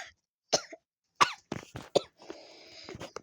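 A small child coughs several times in short, uneven bursts, with a rough throaty cough and a bit of throat clearing, close and fairly loud in a quiet room with no talking.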